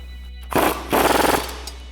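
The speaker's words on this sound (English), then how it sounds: "grab your 18mm swivel socket and wrench to tighten down your bottom bolt" An 18mm swivel socket and wrench tighten the bottom bolt of a Bilstein B8 5100 front shock on a Jeep Wrangler JL: two close bursts of rapid ratcheting clicks, the second longer, over a steady low hum.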